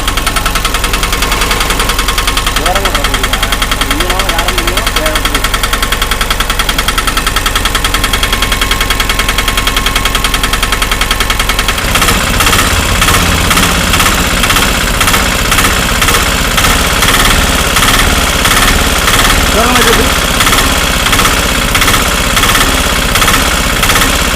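An auto rickshaw's diesel engine idles with a steady, loud, rattling drone, its tone shifting partway through as the running note changes. No voices are heard.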